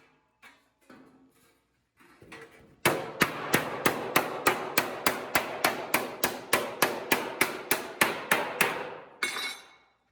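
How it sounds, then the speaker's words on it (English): Steady, evenly spaced hammer blows ring on a sheet metal panel being formed, about two dozen sharp metallic strikes in a row, close and loud, after a few quieter taps. "I just got this shape into it, kind of quick formed it with the hammer."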